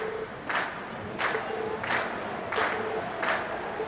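A crowd cheers and chants in rhythmic bursts, about five evenly spaced shouts from an audience at a school performance in Trails of Cold Steel, with music faintly underneath.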